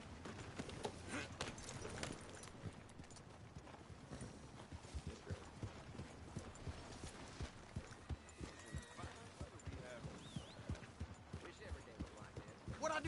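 A horse gallops in Red Dead Redemption 2, its rapid hoofbeats thudding in a steady, driving rhythm throughout, with someone talking over it.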